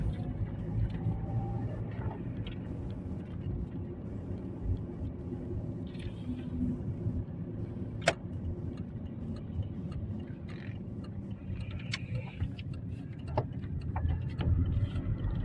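A car drives along a road, giving a steady, faint low rumble of engine and tyre noise from inside the vehicle, with a few small knocks and no talking.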